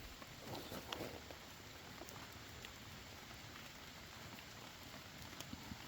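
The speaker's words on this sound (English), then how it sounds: "That rain is just killing this fire." Light rain patters down onto a small campfire outdoors, a faint, steady hiss with scattered soft drips and ticks, no talking.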